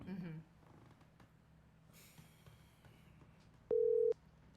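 A phone call ringing out over a phone line, with low background noise and a single steady electronic ring tone near the end.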